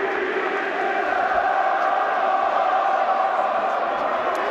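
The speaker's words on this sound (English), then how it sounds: "They have broken out into a few show tunes." A large boxing arena crowd at a light heavyweight bout sings show tunes together, a loud, steady mass of voices droning on without pause.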